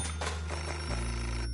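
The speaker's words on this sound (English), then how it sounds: "Pick up the phone." In the video game Beholder, a telephone rings with a bright, continuous electronic bell tone, heard alone and fairly loud for a brief moment.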